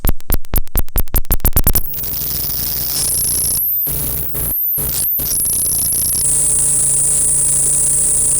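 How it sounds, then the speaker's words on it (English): Modular synth feedback crackles as loud static: a fast run of sharp clicks gives way to dense buzzing noise broken by a few brief dropouts, then a steady hiss. "It starts to create some weird static kind of noises"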